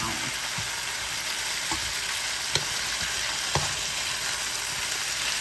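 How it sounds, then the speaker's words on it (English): Onions frying in a skillet after browning beef for stew, a steady close sizzle with a few light utensil taps and scrapes, no voices. "now we're going to take it out of the skillet and put the onions in"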